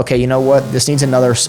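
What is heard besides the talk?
None of the usual background noises is heard.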